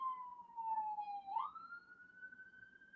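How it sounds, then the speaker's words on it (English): A police siren wails from some distance outside, its single tone dipping and then rising again, faint but clear over low background rumble. "A happy birthday siren just for you."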